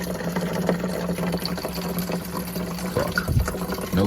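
Water runs steadily into a container, a continuous rushing fill with a faint low hum beneath it, close and fairly loud.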